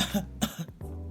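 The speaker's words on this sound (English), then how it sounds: "let me clear my throat" A single short throat clearing, close and fairly loud, breaking into a few rough bursts before a low voiced hum trails off; no words are spoken.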